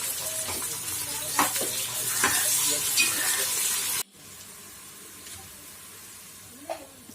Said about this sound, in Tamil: ஆனியன் கொஞ்சம் நல்லா ரெட்டிஷாக ஃப்ரை ஆகட்டும்.